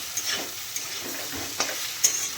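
Food fries in a pan with a soft, steady sizzle, punctuated by a few light clicks and spatula scrapes at irregular intervals, fairly quiet and close, with no voices.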